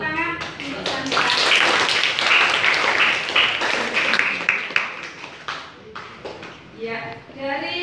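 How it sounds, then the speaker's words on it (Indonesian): Students in a classroom applaud a classmate, a burst of many hands clapping quickly and fairly loudly for several seconds, then thinning out as voices murmur toward the end. "Tepuk tangan untuk Sadika."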